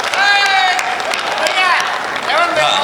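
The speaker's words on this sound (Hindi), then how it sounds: "ताली बजाएं।" Audience clapping at a Hindi kavi sammelan poetry gathering, a steady dense wash of hands with raised voices and shouts riding over it for the full stretch.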